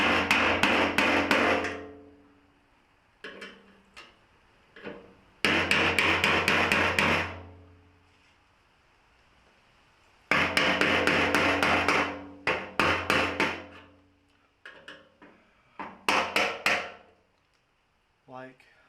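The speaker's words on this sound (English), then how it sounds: "we're going to use a flathead screwdriver and a hammer" Loud, close bursts of rapid metallic strikes, a hammer driving a flathead screwdriver against tabs on a fuel tank, several rounds separated by pauses, with a few lighter taps in between.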